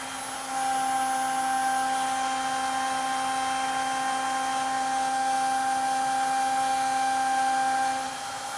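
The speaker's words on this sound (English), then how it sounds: "we will have the lathe go reverse and feed out" Manual lathe running in reverse while threadmilling and feeding out, a steady, close mechanical whine with a constant tonal hum that starts abruptly and runs evenly before cutting off.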